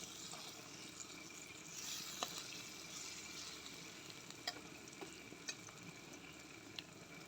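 Onion and tomato masala sizzles steadily in a pan for a river crab fry, a soft continuous frying hiss with a few faint clicks of stirring.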